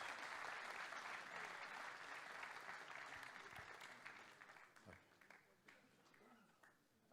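An audience at a live interview event in London applauds children, a soft, steady wash of clapping that gradually thins out and fades near the end.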